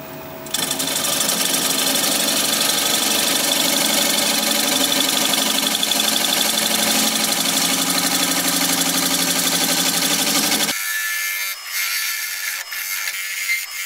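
A wood lathe spins a driftwood blank at about 720 RPM while a 5/8 inch bowl gouge cuts it for a rustic bean pot, giving a loud, steady rough whir and chatter for about ten seconds before the lathe cuts out.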